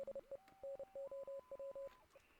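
Series of short electronic radio beeps in a Morse-code-like pattern from the Oxenfree video game, steady tones in irregular groups, fairly faint and heard alone without talk.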